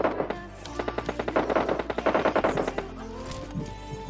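Rapid automatic spray of gunfire in PUBG Mobile Lite, a hacker's burst of about a dozen fast, evenly spaced loud shots with echoing tails, heard close and alone.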